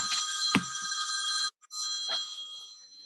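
A mobile phone rings in a room during a panel talk, a bright electronic ringtone that sounds steadily, breaks off briefly and then starts again, with a short thump near the start and no talking over it.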